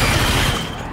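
Dense, loud, continuous gunfire from modern weapons in the mobile shooter Gigantic X, a sustained rattling burst with no pauses.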